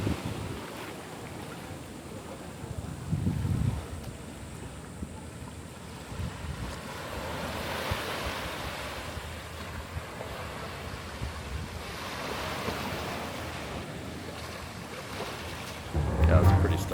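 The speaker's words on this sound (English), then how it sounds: "Let me flip you around and give you a nice shot of the beach here." Surf rolls onto a Costa Rica beach, broad washes of waves swelling and fading over about seventeen seconds, with steady wind buffeting the microphone and no speech.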